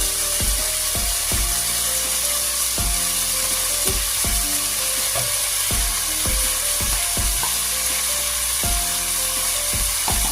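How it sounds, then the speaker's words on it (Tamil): Mutton fries in a pan with turmeric, salt and biryani masala, a dense continuous sizzle under a run of regular knocking and scraping stirs, close and fairly loud. "நல்லா இதை மிக்ஸ் பண்ணி கொடுப்பேன்."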